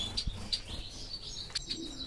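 A pair of white canaries chirp in short, bright bursts at an irregular pace, fairly faint, against a soft indoor background hum.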